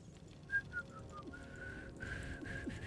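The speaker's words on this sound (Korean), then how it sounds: "휘파람이 오늘도 안 부러지네." A person whistles a short tune of sustained and brief notes, in the Baldur's Gate 3 video game, fairly close and alone over low background noise.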